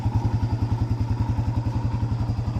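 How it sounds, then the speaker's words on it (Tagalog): A motorcycle engine idles evenly after an overheating repair, a close, steady low thumping pulse with a regular rhythmic beat and no voices over it. "yung andar nito ngayon mga boss makikinig nyo napakapino na yung andar nito"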